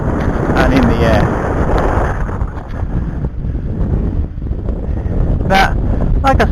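Strong wind buffeting the microphone in a continuous loud rumble during a radio-controlled Sea Fury park flyer flight, with a voice speaking intermittently beneath the gusts.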